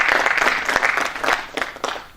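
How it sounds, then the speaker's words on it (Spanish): Audience applause at the Zaragoza Maker Show 2015, a loud burst of clapping from a crowd close by that swells and then begins to thin out and fade. "Marc, un aplauso"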